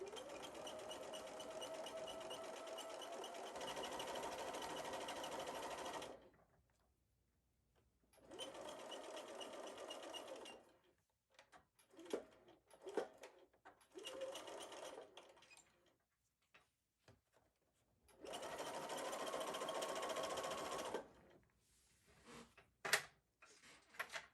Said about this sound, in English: And then I'm just going to sew.